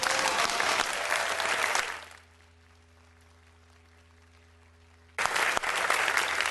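A city council chamber audience applauds principals and administrators at a mayor's education awards evening: loud, dense clapping that cuts off abruptly, a few seconds of near silence, then applause starts again at full strength.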